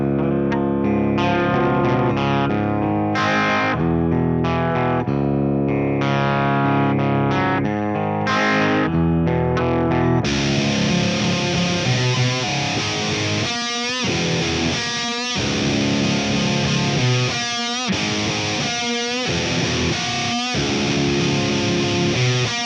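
An electric guitar fitted with Seymour Duncan JB and Jazz humbuckers plays heavily distorted riffs, first choppy chords, then a thicker sustained section with rhythmic stops and scratchy mutes, loud and close with no talk.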